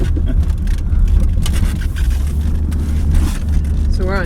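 A 1995 Mercedes E300 diesel with a bad shock and poor alignment rolls along a dirt road, loud low road rumble and engine drone filling the cabin with rattles, while people talk.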